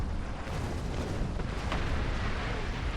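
A deep, rumbling torpedo explosion in the space combat game Star Trek Online, a broad sustained roar filling the whole few seconds, loud and close with no talk.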